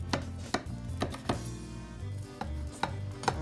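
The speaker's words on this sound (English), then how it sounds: "just using a sharp knife, we'll start to cut into it." A sharp knife cuts down through baked Greek moussaka into squares, a series of soft, evenly spaced thunks as the blade meets the dish, close and fairly quiet.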